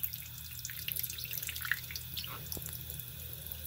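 Small pied blue parrotlet bathing in water, giving light, faint splashes and droplet patter over a steady background hum, close and continuous.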